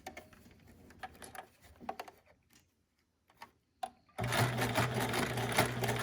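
Several seconds of quiet ticks and handling of thread come first. Then a sewing machine starts and runs at a steady, fast, loud chatter as it stitches elastic onto a fabric face mask with a zigzag stitch.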